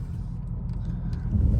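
A Toyota backs up toward a dry patch on soft, wet ground, its engine a low, steady rumble up close that grows slightly heavier near the end, with no talking.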